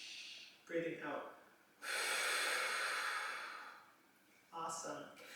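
Slow, deep guided breaths for a pelvic floor exercise: a long, loud airy exhale in the middle, with shorter breathy inhales on either side, close to the mic and without any talking over them.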